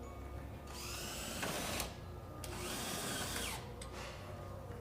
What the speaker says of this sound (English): Now when you're putting these screws in